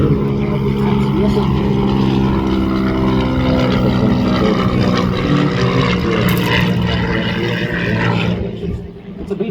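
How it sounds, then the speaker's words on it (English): A PBJ, the Marine B-25 bomber, drones overhead at a military airshow with its radial engines in a deep continuous roar, loud and close, while an announcer talks over it. "It's a B-25 by another name, but here it is, the PBJ, as the Marines called it."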